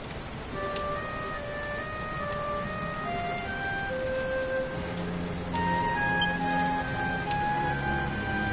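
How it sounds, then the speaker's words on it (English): Steady game rain from Dragon Quest XI falls as a continuous hiss of droplets on surfaces, backed by soft melodic background music with sustained tones, with no voices. "Looks like the rain's dying down."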